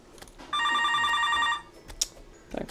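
A telephone bell rings in one steady burst of about a second, clear and close, followed by faint clicks and small noises, during Terraria gameplay.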